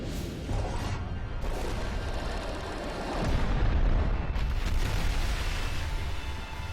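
An animated torpedo launches and explodes, giving heavy rumbling booms and turbulent roaring that swell in the middle and stay loud, with no speech.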